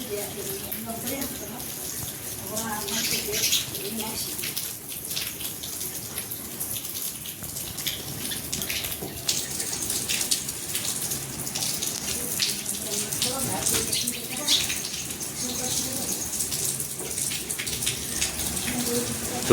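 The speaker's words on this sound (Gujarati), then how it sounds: "તમે આ જો મિત્રો કેવો જોરથી પવન ફૂંકાયો છે" A strong windstorm in Vav Tharad, Banaskantha, Gujarat, makes a continuous broad roar with gusting surges and rain-like rushing, while someone talks over it.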